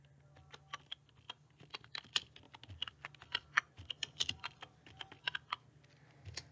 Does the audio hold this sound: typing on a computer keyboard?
yes